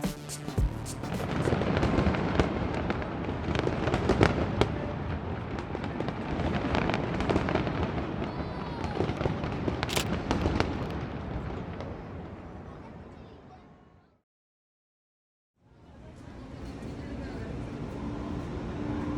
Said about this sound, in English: we walked to see the fireworks near the East River